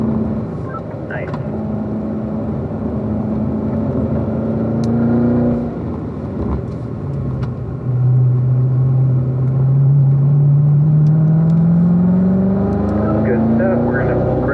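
Chevrolet Corvette lapping a race track, engine note rising and falling through gear changes, with a drop in revs around the downshift before climbing again, heard from inside under an instructor's talk.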